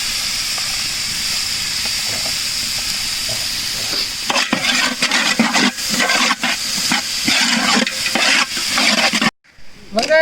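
Onions fry in a pan for village-style chicken biryani, with a steady hissing sizzle joined midway by repeated scraping stirs and bursts of louder crackle, close and prominent.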